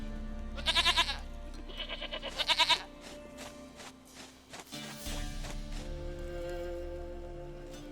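A goat in The Witcher 3 video game gives two quavering bleats close by, followed by softer tapping footsteps and a faint, lower bleating call.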